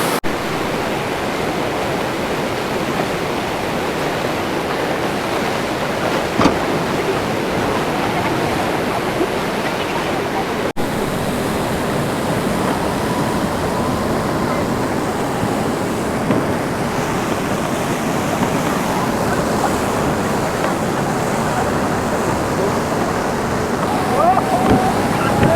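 Rhine Falls roars in a dense, unbroken wash of falling water heard close by, steady and loud throughout, with brief faint voices now and then in the background.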